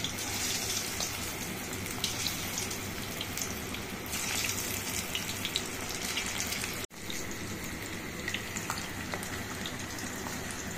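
Cauliflower gobi frying in hot oil gives a steady, close sizzle with bubbling and small pops that carries on evenly, with one brief break near the end.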